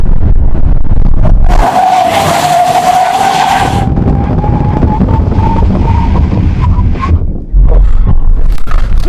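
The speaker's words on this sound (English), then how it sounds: "so let's do this brake test" A Bentley Flying Spur brakes hard from speed during a brake test, giving a loud tire squeal that rises and fades over a few seconds. Heavy wind and road roar continue throughout.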